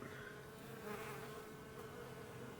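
Honeybees leaving the hive on cleansing flights make a soft, steady, continuous buzzing drone, faint and without talk.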